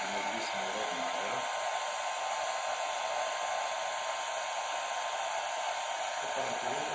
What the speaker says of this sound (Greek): Ανοίγουμε και πάλι το πιστολάκι για να δημιουργήσουμε ρόδινα αέρα.